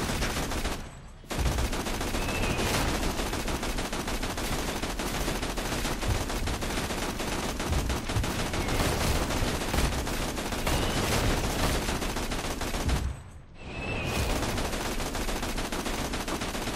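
Sustained suppressing gunfire in Borderlands 2 co-op play, dense rapid automatic bursts rattling continuously and loudly, broken by two brief pauses before resuming.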